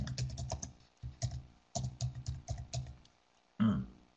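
Bursts of typing on a computer keyboard, clustered quick key clicks separated by short pauses, close and fairly loud, with a heavier clack near the end.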